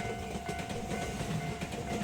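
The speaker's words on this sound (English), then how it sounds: "It's a Red Wing train." A Red Wing passenger train passing on the Sanyo line, a steady rumble of wheels and carriages with faint clickety-clack, heard at moderate distance and alone.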